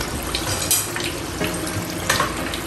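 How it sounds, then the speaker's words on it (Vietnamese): Bean sprout cakes fry in hot oil for a Mekong Delta style crispy pancake, a steady dense sizzle with bursts of crackle and spatter throughout, close and fairly loud, with no talking. "Thì bây giờ mình cứ chiên đó."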